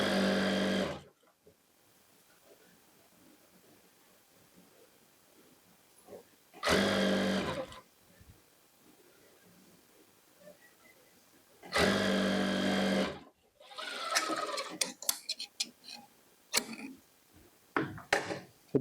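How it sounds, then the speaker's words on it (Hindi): A sewing machine stitches a kurti in three loud, steady whirring bursts separated by quiet pauses, followed by scattered clicks and fabric handling. "तो ये ऐसे सिलाई करेंगे, बिल्कुल नीचे मिलाते हुए।"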